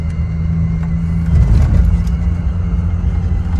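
Car engine of a VW Polo G40 hums steadily at close range while driving, with a low drone that swells slightly midway as gears are shifted, no voices.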